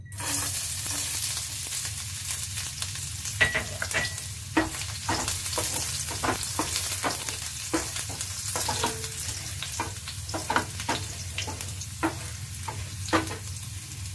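Chopped garlic frying in hot oil in a pan for stuffed capsicum, a steady close sizzle with repeated clicks and scrapes of stirring throughout.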